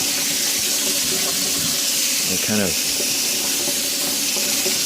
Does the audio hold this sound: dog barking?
no